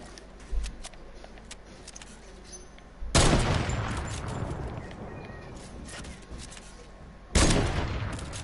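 Gunfire from an online shooter video game: a quiet early shot, then two loud bursts of rapid fire that decay into a rumbling tail, separated by a stretch of softer in-game ambience.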